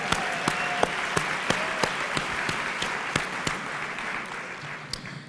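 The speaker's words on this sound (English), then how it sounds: "Let's give them a warm round of applause." An audience at a national family and community engagement conference gives a thin, scattered round of applause, with a few separate claps standing out over a soft, steady hand-clapping wash.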